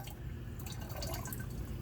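Liquid fertilizer poured into a sprinkling can holding about 1.5 gallons of water, giving a faint, steady trickle and splash close by with no talking.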